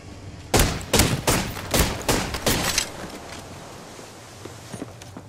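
Rapid bursts of gunfire ring out while taking fire in a video game, about six sharp loud reports in quick succession, followed by quieter scattered game noise.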